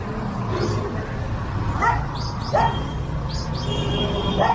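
Several dogs yip and bark in short scattered bursts in a Manila street setting, mid-distance over steady traffic-like background noise, with faint whimpers between the barks.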